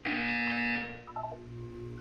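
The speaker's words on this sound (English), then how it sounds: "When you hear the buzzer, look down at the floor." A loud electronic buzzer from the video game Portal 2 blares steadily for under a second and then cuts off, followed by a brief beeping tone pattern over quiet background hum.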